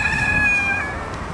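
A chicken at a weekend farm plot gives a clear, drawn-out, tonal call that lasts under a second and then fades into quiet outdoor ambience.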